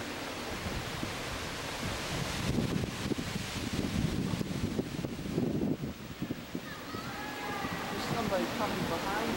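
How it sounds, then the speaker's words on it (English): The Mistral, the wind that comes down from the Alps, blows through Provence in steady, rushing gusts that buffet the microphone. Voices talk faintly under the roar. "The Mistral is blowing."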